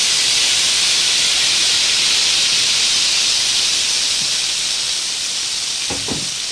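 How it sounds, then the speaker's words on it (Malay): A loud, continuous sizzling hiss of blended paste sautéing in hot oil for a soy sauce fish dish, steady throughout with a couple of soft knocks near the end. "Ni nak tumis ya, yang kita dah blender tadi tu untuk masak kicap."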